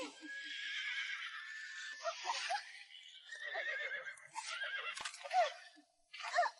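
A horse neighs repeatedly, long shrill whinnies that rise and fall across several bursts, loud and close with no one speaking.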